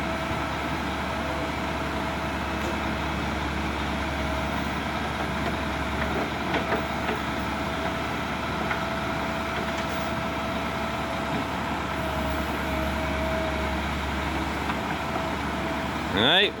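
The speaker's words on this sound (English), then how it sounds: "now we're going to decide to try and dig this out with the backhoe" A backhoe works in the rain to dig out a big truck stuck on a mountain road, its diesel engine droning steadily at a distance with a low rumble throughout and faint background noise.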